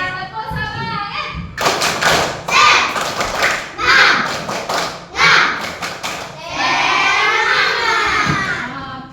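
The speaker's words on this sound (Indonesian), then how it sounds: "Oke, yang tepuk semangat." Children in a classroom perform a rhythmic spirit-clap routine: brisk bursts of hand claps and thumps in a patterned beat, loud and close, with young voices chanting just before and after.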